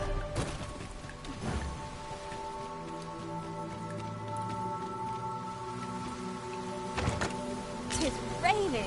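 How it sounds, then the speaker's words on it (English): Steady rainfall in the Dragon's Dogma video game, a soft continuous patter under sustained musical tones, with a brief heavier crash near the end. "Tis raining."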